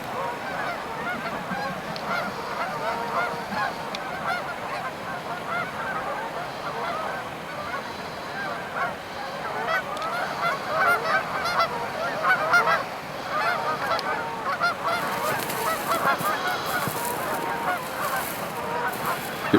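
Geese at a wilderness park honk continuously in a loud, dense overlapping chorus from a sizeable flock, with the calls carrying on throughout and swelling slightly toward the end.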